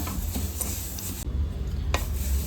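Sesame seeds dry-roasting in a pan while being stirred, giving a steady close scraping and rustling texture throughout, with no voices.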